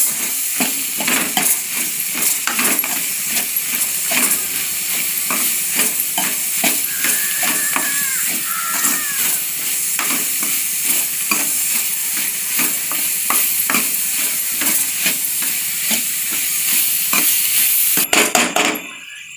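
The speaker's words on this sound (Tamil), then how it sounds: "தேங்காய் போட்டு இது நல்லா ஒரு 2-3 தடவை நல்லா திருப்பி விடுங்க" Grated coconut stirred and fried into a Chettinad mutton masala in a pan, with continuous close sizzling and repeated scraping strokes of a spoon, ending in a brief clatter.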